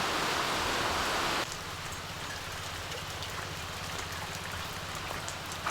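Heavy rain pouring steadily, a loud close hiss of drops on surfaces that drops to a softer, continuous patter partway through.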